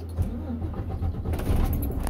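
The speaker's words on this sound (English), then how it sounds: "let me turn the truck on." A semi truck's engine turning over and catching, a brief low rumbling start with a faint metallic jingle in the background.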